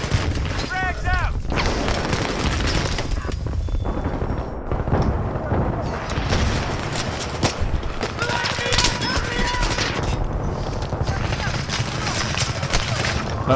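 Grenade blasts and bursts of gunfire in the video game Take Us North, a loud, dense battle soundscape with booming impacts and rapid shots running throughout, with voices and squad shouts mixed in.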